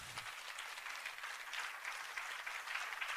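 A church congregation applauds at the opening worship service for a new vision center, a steady, moderately faint wash of clapping that runs unbroken throughout.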